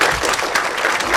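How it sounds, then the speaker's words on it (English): A lecture audience applauds a volunteer named Daisy, with steady, dense clapping from many hands throughout a short burst. "A round of applause for Daisy,"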